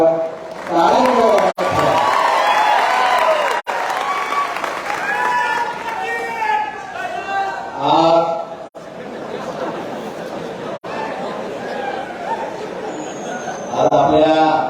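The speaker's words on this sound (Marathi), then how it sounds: "टाळ्या" Applause and cheering from students and parents at a career guidance event in Dharashiv, Maharashtra, loud and sustained across the whole stretch with crowd chatter mixed in, briefly cut off a few times and swelling again near the end.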